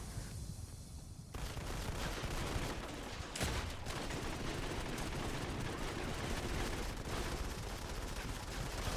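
Sustained gunfire rattles through a Modern Combat 5 multiplayer match on iOS, continuous bursts of automatic shots layered over one another, loud and dense for the whole stretch with a sharp crack near the middle.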